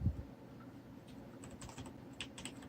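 Keys on a Logitech G810 keyboard are typed in quick, light, slightly clicky bursts, close up and fairly quiet, with no talking.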